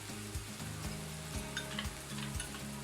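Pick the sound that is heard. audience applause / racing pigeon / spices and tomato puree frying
spices and tomato puree frying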